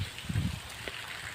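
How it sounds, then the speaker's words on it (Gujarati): Heavy rain falling across a flooded farm road near the Venu river in Gujarat, a steady soft hiss of drops with a few low gurgling splashes early on, close by and continuous. "વરસાદ અહીં બહુ ચાલુ થઈ ગયો"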